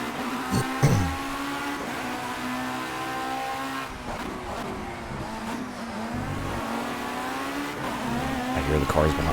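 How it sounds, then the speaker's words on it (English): Race car engines roar in Project CARS, a sustained high-revving drone with shifting pitch from the player's car and others close behind, while someone talks over it. "I hear the cars behind me."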